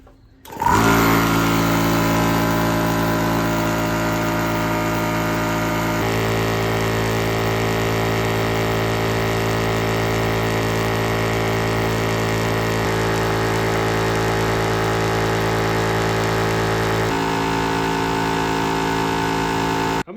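A Yong Heng HPA high-pressure air compressor pump starts abruptly and runs loud and close with a steady mechanical drone, its tone shifting slightly a few times, alongside a cooling system.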